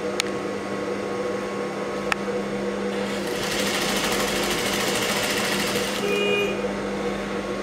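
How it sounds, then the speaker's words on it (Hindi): A sewing machine stitches piping onto a blouse with a steady, continuous mechanical whir that grows slightly louder and busier midway, heard up close with no talking. "और कोने में सिलाई मारते जाना है बस।"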